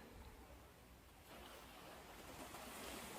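Ocean waves washing onto a beach, a steady broadband surf wash that swells a little louder midway and holds, with no voices over it.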